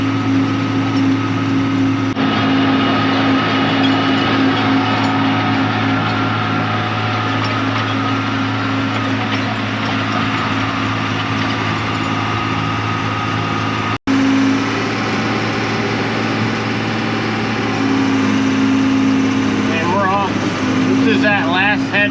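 A tractor running a new discbine mower through full-blossom hay, a steady loud engine drone with constant mechanical whine throughout, briefly interrupted once, with a voice speaking over it.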